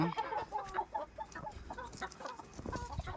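Chickens cluck and squawk in quick, overlapping bursts, a rooster and hens close by, busy and lively throughout.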